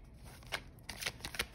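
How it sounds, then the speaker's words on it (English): Tarot cards being shuffled, a few quick, soft riffling bursts close to the microphone in a quiet room, with no voice during the shuffle. "as I shuffle these cards"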